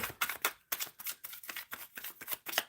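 Tarot cards shuffled by hand in quick, rhythmic bursts of crisp riffling and slapping, close and fairly quiet, with short pauses between passes and no talking.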